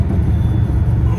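Pontiac GTO with a swapped HCI 6.0 V8 accelerating hard, a loud, close, steady low-pitched engine roar that holds without a break and has no talk over it.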